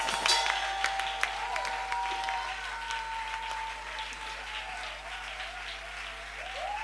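Church congregation applauding during worship, steady dense clapping that swells at the start and then holds at an even level with no voices over it.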